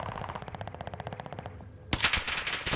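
Gunfire in the game Warzone: a rapid, steady burst of automatic shots is followed by a louder, denser spray of close gunfire.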